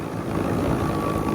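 Toro 60V Power Max electric two-stage snowblower throwing snow, a steady close whir and broadband rush of the auger and impeller running continuously without pause.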